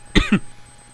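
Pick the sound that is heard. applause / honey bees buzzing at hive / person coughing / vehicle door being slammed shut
person coughing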